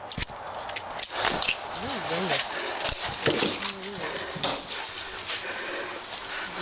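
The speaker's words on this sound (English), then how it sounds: "Dog." A dog in a house backyard pants and lets out whining, whimpering yelps amid footsteps and movement, with people talking over it throughout.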